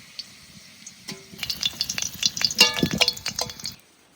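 Potatoes frying in hot oil in a pan, stirred with a utensil, giving a close, steady sizzle with scraping and light clinks of metal.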